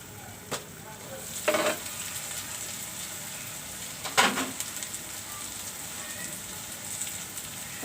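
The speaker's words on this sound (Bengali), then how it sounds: "ছোট বাইম মাছ একদম চচ্চড়ি পুরা পুরা ভাজি হয়ে গেল।" Small baim eel fish frying in a covered pan, a steady soft sizzle throughout with a few brief clinks and scrapes from stirring, no voices.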